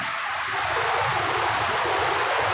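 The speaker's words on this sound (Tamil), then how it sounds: "தண்ணி போகிற சவுண்டு பாருங்கள் செமையாக இருக்குது" A forest stream rushes steadily past, its water flowing as a dense, continuous hiss and roar that stays close and loud throughout, with no voices over it.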